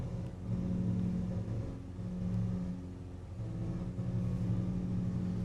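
In Flight Simulator 2024, a light aircraft's piston engine drones steadily and fairly quietly, holding a constant low hum with slight swells, and no talking.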